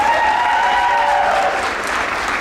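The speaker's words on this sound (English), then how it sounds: "Let's give him another applause." Graduation audience at a high school mid-year ceremony in Topeka applauds loudly and steadily, a dense wash of clapping with a brief sustained tone over the first half before easing slightly toward the end.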